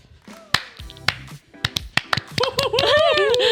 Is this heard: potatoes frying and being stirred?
no